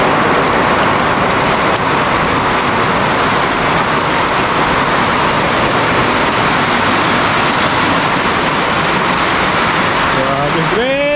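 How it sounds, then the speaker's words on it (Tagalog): Torrential rain pouring down in a continuous, loud hiss and roar, with a voice speaking briefly near the end over the downpour. "Grabe lakas ng ulan na to."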